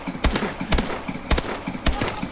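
An AK-12 fires in Call of Duty Advanced Warfare, four sharp, evenly spaced gunshots ringing out over a constant game background.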